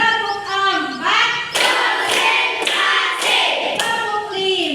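A class of children claps in counted bursts during a classroom chant. Four loud, sharp group claps fall roughly a second apart between stretches of chanted singing voices.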